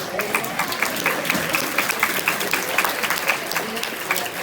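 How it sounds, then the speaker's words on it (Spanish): Audience applause greeting a professor introduced at a university research methods class, a steady sustained patter of many hands clapping, fairly loud and even across the whole clip. "Un aplauso para ella."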